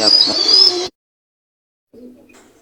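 Pigeons in a Khulna loft, including a pair of English Black Nuns: a short, bright burst of bird sound, then a silent gap, then a soft, low coo close by.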